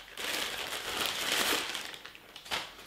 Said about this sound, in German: So, wir starten erstmal mit dem Auspacken.